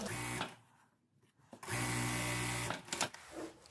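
A sewing machine stitches the yoke onto the back panel of flared trousers, running in two steady bursts with a brief pause between, loud and close with its even mechanical whir.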